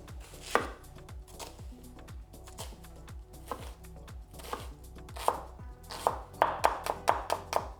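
Knife chopping an onion on a cutting board for chicken gumbo, a run of steady close thuds that quicken into sharp rapid knocks near the end, with a low background hum and no talking.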